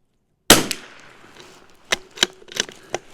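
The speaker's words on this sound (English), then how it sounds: "let's shoot the first 5 rounds on the top left group up there" A CZ 457 .22 rifle firing CCI standard velocity rounds, one sharp shot followed by four more spaced cracks at a steady rhythm, close and loud.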